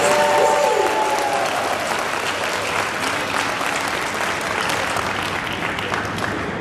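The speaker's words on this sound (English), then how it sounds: "let's give a huge round of applause for all of the students here that are being recognized this year." An audience at a high school district STEM awards ceremony breaks into sustained applause, dense clapping that fills the room at a steady level, strongest at the start and easing slightly toward the end.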